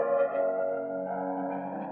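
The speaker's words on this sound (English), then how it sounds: "Added things like saturation, pitch drift, and interesting filter processing to add a thick textural layer to the guitar." Guitar reverb send layer thickened with saturation, pitch drift and filter processing, a sustained smeared chordal wash that holds steady and slightly wavers, alone with no voices.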